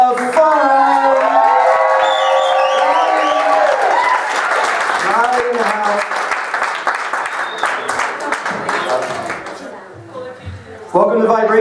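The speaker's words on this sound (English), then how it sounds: "round of applause for the VP of Fun" A crowd at a party event in the Broadmoor Hotel claps, cheers and whoops, with shouted voices and sung tones over the steady applause, which thins out toward the end before voices rise again.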